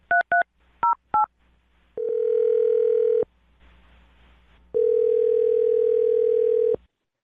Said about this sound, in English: I'm going to dial her phone number and see if we can get her on the phone.